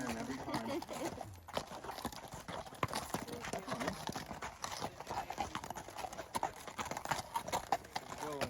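Horse hooves clip-clop steadily on a dirt desert trail in north Phoenix, a continuous close rhythm mixed with rustling and outdoor noise, with voices talking at points.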